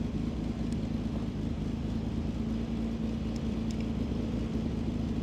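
A 1967 Austin Healey idles steadily nearby, a constant low engine rumble with a faint hum and no voices heard.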